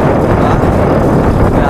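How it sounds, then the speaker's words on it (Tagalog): Strong headwind roars across the microphone while riding a Trek Madone SL 6 Gen 8 road bike, a steady loud buffeting rush with no break. "Lalaban tayo sa hangin kasi dito na naman ang hangin guys."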